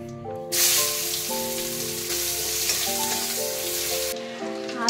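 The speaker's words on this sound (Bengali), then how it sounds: "কড়াই তেল দিয়ে নিয়েছি, একটু ফোড়নে দিয়ে দিলাম জিরে, শুকনো লঙ্কা আর তেজপাতা।" Cumin, dried chilli and bay leaf dropped into hot oil in a kadai, a sudden loud sizzle that holds steady for several seconds with music playing underneath, then cuts off.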